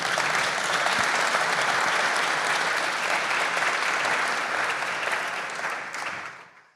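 Sustained audience applause from a large crowd at an event honoring Carol Moseley Braun, a dense, even roar of clapping throughout that fades out in the final second.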